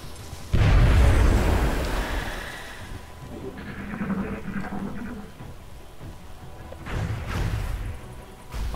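A grenade goes off in the XCOM strategy game, a loud low boom with a crashing burst that rumbles and fades over a couple of seconds, followed later by softer rumbling debris and a second, smaller swell of impact noise.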